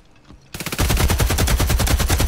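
Rapid automatic gunfire in a free FPS shooter game, a loud continuous burst of evenly spaced shots that starts abruptly and keeps firing, close and dominant.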